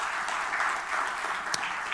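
Audience applause at a post-budget economic forum, a steady, fairly faint wash of clapping that runs evenly for about two seconds without voices.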